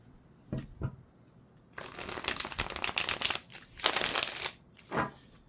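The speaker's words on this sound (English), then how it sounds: "they riffle shuffle so easily" Tarot cards riffle-shuffled in several quick bursts, a crisp ruffling flutter with brief pauses between, close up and with no one talking.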